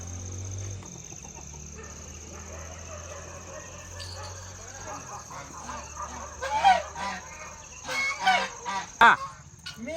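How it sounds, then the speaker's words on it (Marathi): A chicken squawks and clucks loudly in agitated bursts toward the end as it is chased and caught at a rural New Year's Eve event, following a quieter stretch with a steady background tone. "कोंबडीच्या मागे लागली त्याने कोंबडी धरली"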